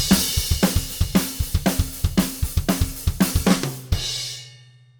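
A snare drum rips through a fast lick at 215 bpm, tight rapid strokes in repeating groups, ending on a crash that rings and decays alone.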